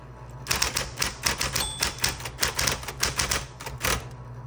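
Keys strike rapidly on a 1970s Coronet Super 12 manual typewriter, a brisk, uneven run of sharp mechanical clacks heard close and alone, with no voices.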